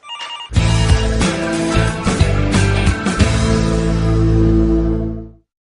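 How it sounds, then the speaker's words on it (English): A loud telephone rings close by in a continuous electronic trill, sustained for about five seconds and then cut off abruptly. "Linda, the phone is ringing."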